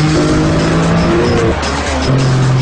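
A Noble M400 sports car with 425 brake horsepower accelerates hard through gear changes, its engine note rising and dropping as the tires squeal. Loud, close and continuous, with no talk.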